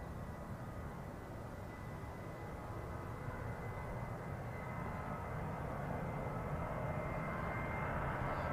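Jet2 airliner departing Manchester Airport for Alicante, heard as a steady broadband engine roar that holds at a constant loud level throughout, with no talk.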